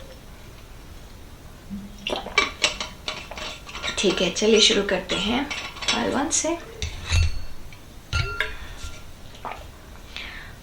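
Close clinks and clatters of a drinking glass and its lid as someone drinks water at a desk, bunched in the middle stretch. Someone speaks briefly over them.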